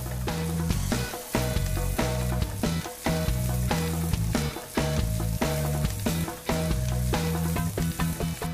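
Steady, loud sizzling of onions frying in a pan, crackling continuously up close with occasional stirring, no voices.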